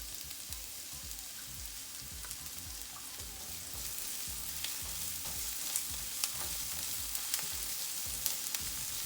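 Garlic frying with translucent onions and green onions in a pan, a steady close sizzle and crackle, moderately quiet, with light pops throughout.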